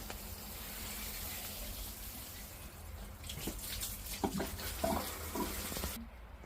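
Water pours steadily in a constant loud rush while watering a vegetable garden, like a running tap, then cuts off abruptly near the end.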